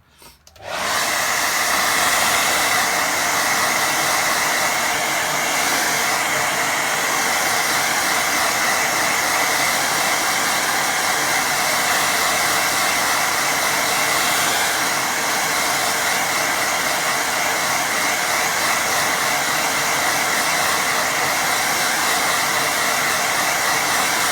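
A hair dryer blows steadily on a watercolour painting of a sunset over rocks, switching on abruptly and then running as a loud, continuous, even whoosh close by for the rest of the clip, with no talking over it.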